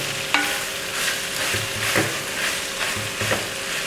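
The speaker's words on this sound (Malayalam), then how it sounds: "നന്നായിട്ട് മിക്സ് ചെയ്ത് കൊടുക്കുക." Tender jackfruit stir-fried in a pan for a traditional Kerala thoran, with steady sizzling and spatula scrapes and clacks against the metal at irregular intervals, close and moderately loud, with no talking.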